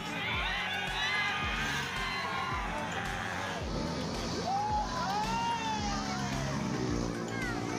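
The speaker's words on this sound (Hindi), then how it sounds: "बाइकर्स जैसे ही स्टंट करते हुए नजदीक से गुजर रहे हैं, जोश भरने के लिए लोग तालियां बजा रहे हैं," A roadside crowd in Dhanbad, Jharkhand shouts and whoops as stunt bikers pass close by, a loud, continuous jumble of voices with passing engine noise and scattered clapping mixed in.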